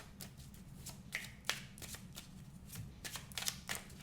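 Tarot cards riffled and cut by hand, a run of quick papery flicks and soft slaps at close range, quiet and alone with a low room hum beneath.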